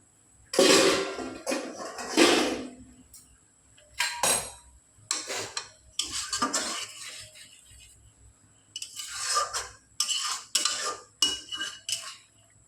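Fish being stirred into boiling curry gravy in a pot: bursts of metal spoon scraping and clanking against the pot, loud and close, separated by short pauses and quiet bubbling.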